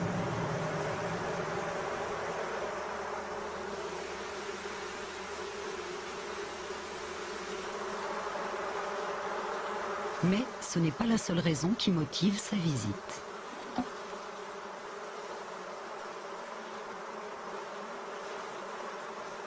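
A steady, dense buzzing of many bees continues throughout, with someone speaking over it partway through.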